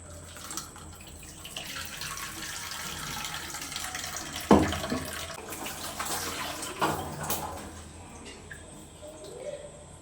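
Water runs from a tap while broken coconut pieces are washed, an uneven splashing flow with a few louder splashes and clatters in the middle.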